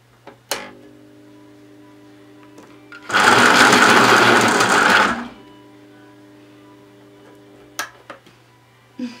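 A coloured pencil is sharpened in a small electric sharpener, a loud close grinding whir lasting about two seconds, framed by quiet light clicks and handling with no talk.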